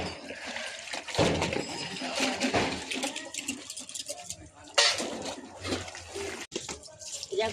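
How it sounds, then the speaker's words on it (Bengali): Dishes being scrubbed and rinsed under running tap water at a home sink, splashing and clattering in irregular bursts with someone talking over it. "এখন এই বাসন মাজবো, ধোবো"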